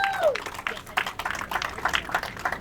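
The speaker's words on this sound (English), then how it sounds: "So let's give them a round of applause." A crowd at a Portuguese flag raising gives a scattered round of applause, with claps pattering unevenly and a brief whistle near the start.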